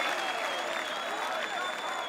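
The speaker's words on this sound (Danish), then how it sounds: "I klapper af mig" A crowd at an FC København championship party claps continuously, the applause dense and somewhat distant, with a faint high tone and murmuring voices beneath it.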